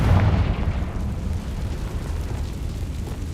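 A Confringo fire-blasting spell in Hogwarts Legacy, a loud, deep explosive boom at the start that trails into a rumbling roar and then settles into a sustained, fading wash of noise.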